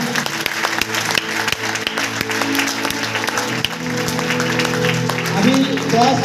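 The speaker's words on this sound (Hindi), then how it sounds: "मैं चाहूंगा कि एक बार जोरदार तालियां होना चाहिए आप सभी लोगों के लिए। जोरदार तालियां।" Audience at a Hindi-language business event applauding on request, steady clapping with a voice speaking over it and an amplified hum in the hall.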